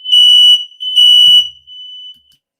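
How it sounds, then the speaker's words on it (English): A household fire alarm shrieks in two loud, sustained high-pitched bursts, then a softer third tone fades out, close and piercing in a quiet room. "That's a fire alarm in my house."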